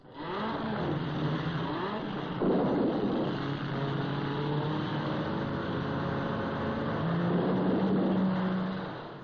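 A banger racing car drives around a stadium track, its engine droning steadily with shifting revs, loud and continuous throughout.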